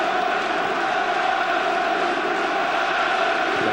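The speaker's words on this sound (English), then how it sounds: "it's not for the want of support from their amazing crowd tonight" Constant roar of a large football crowd at a Newcastle United v Barcelona Champions League match in 1997, a dense, steady wash of massed voices with no breaks, heard from within the stadium.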